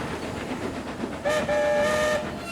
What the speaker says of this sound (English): an engine roughly bumped some trucks under one of the other coal chutes